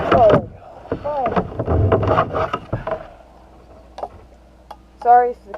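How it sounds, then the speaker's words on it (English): A kayak rocks on backyard water with its paddles, giving soft wooden knocks and water movement that run under a person's talking, with a few sharper taps later on. "I'm rocking the kayak a little bit"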